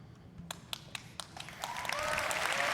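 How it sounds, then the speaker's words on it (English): A single person claps at a press conference, about eight spaced, sharp claps that then give way to a swelling wash of crowd applause. "that lone clap is starting it strong"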